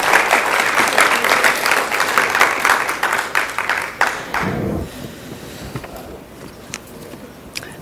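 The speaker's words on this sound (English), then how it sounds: "one more time, just give them a hand clap for all the work that they do" Audience at a city school board meeting gives a round of applause for school counselors, dense clapping that tapers off midway into scattered claps and room noise.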